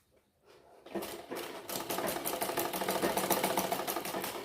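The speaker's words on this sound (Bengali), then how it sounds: "এইভাবে সম্পূর্ণটা গলায় আমরা পট্টির কাপড়টা সেলাই করে দেব" A sewing machine stitches a fabric strip around the neck of a bra-cut blouse front, starting after a quiet moment and settling into a loud, fast, rattling run of stitches close by.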